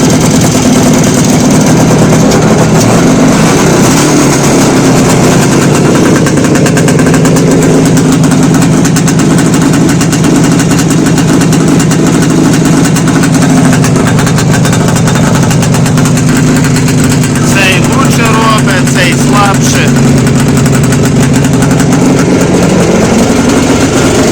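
An Izh Jupiter 5 motorcycle engine idles steadily and loudly throughout, its revs wavering slightly because of a Chinese carburetor, with a brief burst of higher-pitched rattling near the end.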